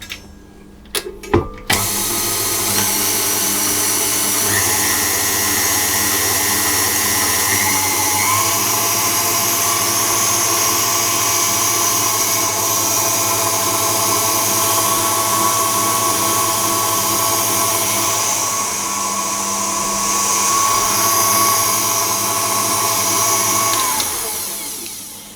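An electric mixer beats egg yolks into a dough, a loud steady motor whine that holds for over twenty seconds with a few knocks at the start as it begins and shifts slightly in pitch.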